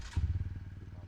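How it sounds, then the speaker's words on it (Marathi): A motorcycle engine fires up on the electric starter and settles into a fast, steady idle thump, close and fairly quiet over its brief span. "स्टार्टर मारू."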